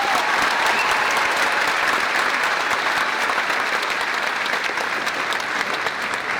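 Steady, dense applause from a large audience at a high school graduation ceremony, loud and continuous throughout with no voices standing out.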